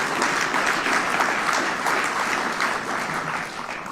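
A round of applause from an audience at a meeting, dense clapping that stays loud and steady and tapers slightly toward the end, with no voices over it.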